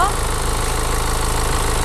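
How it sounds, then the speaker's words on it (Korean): A second-generation Mini Cooper D SE diesel car engine idles with a steady, even low hum, heard up close while a person talks over it. "네, 엔진 소리도 일정합니다."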